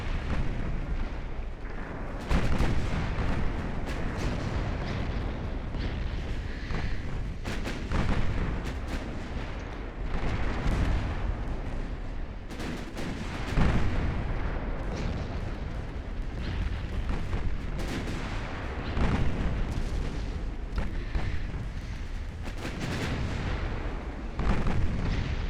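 Naval battleship gunfire in the Ultimate Admiral: Dreadnoughts game, with heavy booming salvos rolling one after another over a constant rumble, loud and dense throughout with no talk.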